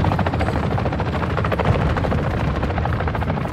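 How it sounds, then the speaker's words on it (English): Helicopter chopper gunner in the video game DMZ, a steady, loud rotor drone throughout with a dense, rapid pulsing texture and no talk. "That's our chopper gunner, I think."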